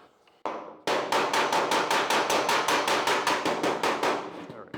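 Rapid, evenly spaced metallic hammer blows planishing sheet metal on a dolly on a 1951 Ford, about sixteen in a row, ringing sharply and close, after two single opening strikes.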